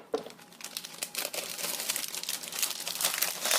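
Plastic wrapping on a package of sheet moss crinkles and rustles close up, a continuous crackling handling sound that stays busy throughout.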